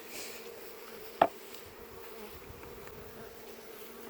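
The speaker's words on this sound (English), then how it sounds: "I want to shake these bees off into this colony" Faint, steady buzzing of honeybees close by after being shaken off a frame into a colony, broken by one sharp knock partway through.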